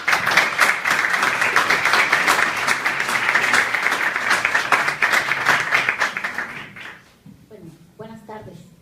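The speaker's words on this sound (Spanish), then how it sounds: "recibamos a nuestra primera disertante con un fuerte aplauso" University audience applause at a legal forum, a sustained burst of clapping that fades out after about seven seconds, followed by a speaker beginning to talk.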